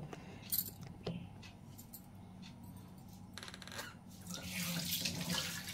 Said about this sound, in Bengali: এটা আবার ধুয়ে পরিষ্কার করে রেখে দিই